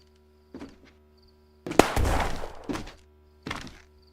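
A grenade goes off in the VR shooter Ghosts of Tabor: a sharp blast with a rumbling tail, followed by smaller rattling thumps and a later knock, set against quiet surroundings.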